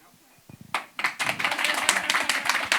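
Studio audience clapping on cue, a few scattered claps swelling into steady, fairly loud applause from a group nearby.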